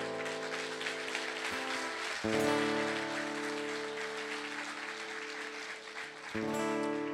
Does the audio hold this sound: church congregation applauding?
yes